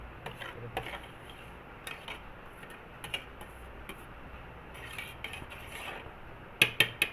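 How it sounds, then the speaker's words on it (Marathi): A spoon stirring salted cooked rice in a pot, alongside dal and rice cooking: faint, soft scraping with scattered light taps, then a few sharp metallic clinks close by near the end. "आपण याच्यात चमचा फिरून घेऊया म्हणजे मीठ सगळीकडे लागले जाते"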